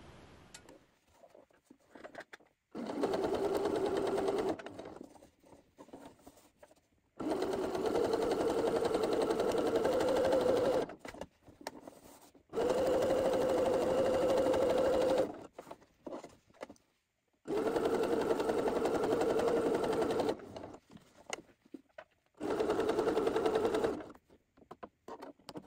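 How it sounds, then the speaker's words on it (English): A home sewing machine stitches a collar seam at a 5/8 inch allowance in five separate bursts of steady whirring, each lasting a few seconds with short quiet pauses between, close and clear. "sewing it at 5/8 of an inch seam allowance"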